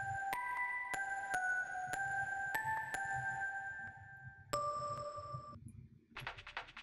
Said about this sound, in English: I have this Synth Marimba